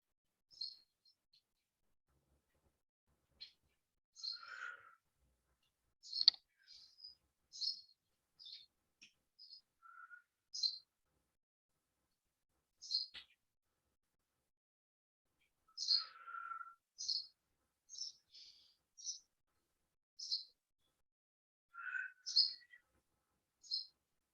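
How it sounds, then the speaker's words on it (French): Small birds sing outdoors with scattered chirps and short trilling phrases, some near and some farther off, separated by quiet pauses, behind a calm yoga session. "On a quand même une petite musique d'oiseau, c'est bien en arrière."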